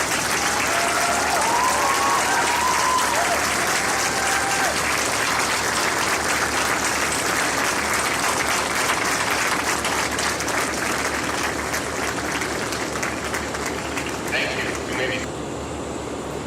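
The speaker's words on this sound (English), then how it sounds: "may I request the faculty to please stand up and acknowledge their applause." Sustained applause from a large university convocation audience as faculty stand to be acknowledged, dense steady clapping throughout at close range, with a few faint voices mixed in.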